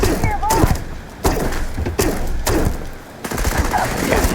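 Novalight Particle Beam weapon firing in the video game Starfield, heard as a run of loud, close, harsh bursts, each with a sharp onset and a short roaring tail.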